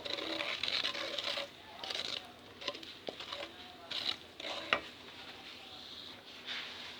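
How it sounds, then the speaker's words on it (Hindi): Turmeric and mixed masala spices frying in a pan of oil: a close, soft sizzle broken by stirring scrapes and clinks in bursts, with faint background movement. "हल्दी डालेंगे और इसमें थोड़ी सी मिक्स मसाला A1 का, इसको थोड़ा सा फ्राई करेंगे"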